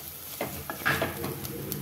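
Garlic and ginger fry in a pan for a fish masala while a spoon stirs them, giving soft sizzling and a few light scrapes up close.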